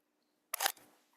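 A film camera's shutter fires once up close: a single sharp mechanical click with a short rattling tail in an otherwise quiet room.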